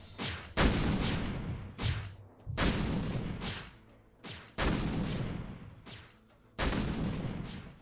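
Heavy gunshots in the video game Habitat, fired as about seven booming blasts with decaying tails, spaced irregularly roughly a second apart, loud and close with no talking.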